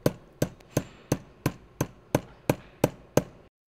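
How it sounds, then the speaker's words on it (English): A one-pound hammer taps rivet fasteners into a conveyor belt: ten sharp metallic strikes at a steady, even rhythm, close and clear with no talk, then silence. "Tap all fasteners with a 1-pound hammer until they touch the belt."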